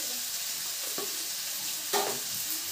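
Cumin powder and other ground spices frying in a pan, a steady close hiss of sizzle with a couple of brief stirring scrapes, no talking.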